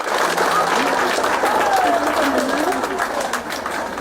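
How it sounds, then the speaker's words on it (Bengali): Loud, steady applause from an audience cheering a student at a school event in Assam, continuous clapping filling the whole stretch with crowd voices mixed in. "একটা জোরদার হাততালি হয়ে যাক সুহাদার জন্য"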